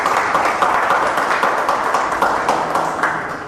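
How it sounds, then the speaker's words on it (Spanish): Church congregation clapping and praising the Lord after a prayer, a steady broadband wash of hand claps filling the room at moderate loudness, with faint voices mixed in. "Dale un aplauso al Señor."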